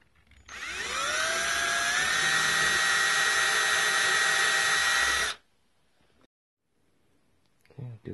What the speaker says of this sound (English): I'm ready to pre-drill the other ones